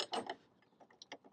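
A ratchet with a 13mm socket tightens a bolt while a tailgate range limiter is fitted to a Bronco, giving a few quiet, uneven clicks and short rasps close by, with no talk.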